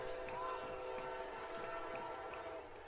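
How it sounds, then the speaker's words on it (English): A train passing near a high school baseball game sounds a sustained, droning horn that holds steady throughout at moderate volume, with light crowd ambience underneath. "I don't know where that train is, but he's close."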